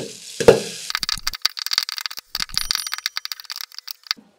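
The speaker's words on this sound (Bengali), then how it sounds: "ভুট্টার দানাগুলো ফুটে একদম এক কড়াই পপকর্ন হয়ে গিয়েছে" Corn kernels burst into popcorn in a pan over a low flame, a loud early pop followed by rapid, irregular clusters of crackling pops and rattles that thin out toward the end.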